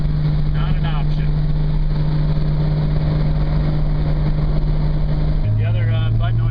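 Steady engine drone of a 1968 Triumph Spitfire cruising at 60 mph around 2,800 RPM, heard from inside the car as a constant low hum with road noise that shifts pitch slightly near the end, with a voice talking over it.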